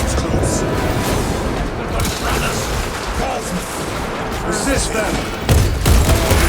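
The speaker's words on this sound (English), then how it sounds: "Small arms fire. It sounds close." Small arms gunfire in the Warhammer 40K Space Marine 2 video game, a dense, close rattle of rapid shots and booms running steadily under a shouted voice, with a louder burst near the end.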